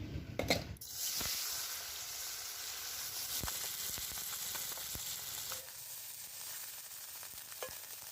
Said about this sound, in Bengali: দিয়ে মাছটা ভেজে নেব